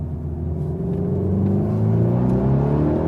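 A Volkswagen T-Roc R performance SUV with a 300-horsepower engine and all-wheel drive accelerates out of corners on a hill road. Its engine gives a steady, close rumble whose pitch rises smoothly as it pulls, with no talk over it.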